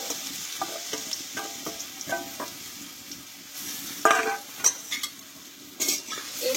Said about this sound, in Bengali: এবার একটু আমি ভালোভাবে নাড়াচাড়া করে আমি আলুটাকে একটু ভেজে নেব।